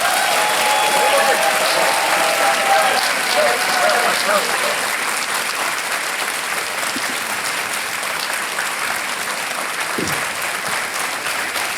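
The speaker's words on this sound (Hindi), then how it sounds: "तालियां बज जाए इनके लिए।" Sustained applause from a game show studio audience, steady and fairly loud, clapping throughout with a dense wash of hands.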